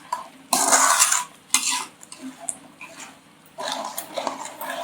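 Coconut paste is worked into masala in a pan, with loud scraping stir strokes in two bursts and a faint sizzle in the gaps.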